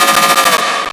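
Heavy distorted bass synth in a metal remix, now with multi-band compression: a loud, brighter, dense rapidly pulsing burst with a tight stuttering rhythm, heard alone.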